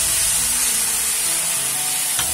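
Ginger garlic paste fries in hot oil with a coriander and cumin spice mix for paneer butter masala, giving a steady, close sizzle and hiss with faint stirring and no voices.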